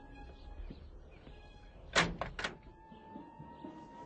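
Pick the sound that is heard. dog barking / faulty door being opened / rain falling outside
faulty door being opened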